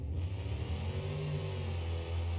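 A car engine in BeamNG.Drive running on kerosene jet fuel revs with a droning, slightly uneven tone that rises and holds, close and steady, with no talking.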